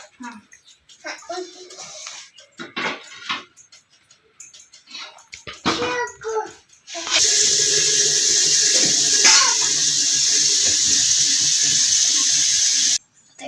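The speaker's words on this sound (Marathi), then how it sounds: "पातळीत पाणी घेऊन गॅसवर ठेव" Kitchen clatter and voices come first, then water pours loudly and continuously into a cooking pan for making potato wafers, a steady rushing stream lasting about six seconds before stopping abruptly.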